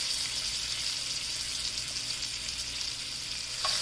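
A filet mignon steak sears on each side in an air fryer, giving a steady, even hiss of sizzling fat close by and without a break, with no talking.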